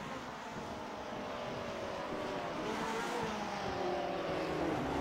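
Race car engines in the Grand Prix Legends video game at the Montreal circuit, a continuous buzzing engine drone that rises slightly in pitch as cars pass, steady and moderately loud with no talk.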